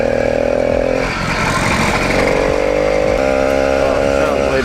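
An 80cc motorized bicycle engine catches and keeps running, a loud buzzing two-stroke note that briefly dips before settling into a steady, slightly wavering idle.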